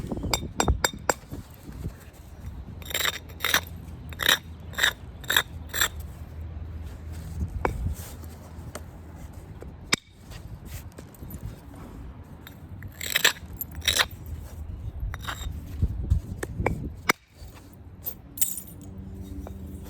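A boxwood tool working a basalt stone, producing sharp clinking and tapping contacts in irregular bursts, some clustered rapidly, heard close and fairly quiet with no talking.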